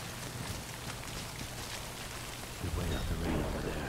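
Rain pours steadily in the Death Stranding video game, with a deep rumble of thunder swelling near the end, a broad continuous wash of sound heard without talk.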